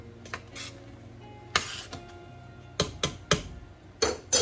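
Turkey dumplings stirred in a pot: a handful of sharp utensil clinks and scrapes against metal, irregular and close, between quieter gaps.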